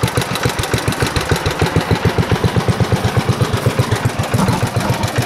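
A 1958 Moto Mower engine, fitted with a John Deere snow plow, idles at low RPM with a steady, loud, close chugging beat of rapid, even pulses and no talking.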